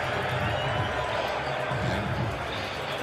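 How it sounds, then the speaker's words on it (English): Roar of a large stadium crowd at a CFL football game between the Saskatchewan Roughriders and the Calgary Stampeders, reacting to a replay announcement: dense, steady cheering and crowd noise filling the whole stretch, with no break. "I thought it interesting to hear the reaction of the crowd in this one"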